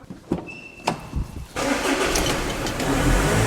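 A car engine starts: a few short cranking bursts and clicks, then the motor catches into a loud, steady rumbling idle close by, with no voices over it.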